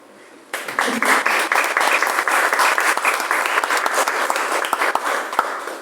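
A large crowd at a fantasy anthology book event bursts into sustained applause, dense and loud, continuing steadily without a break after a brief quiet start.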